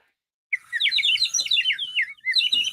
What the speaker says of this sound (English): It's a toucan. bird call. It's like a bird call around his neck.